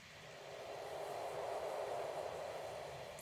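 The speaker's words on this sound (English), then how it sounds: "Windy ambience." A steady, hissing wind ambience blows evenly without gusts or other sounds, soft and continuous from start to finish.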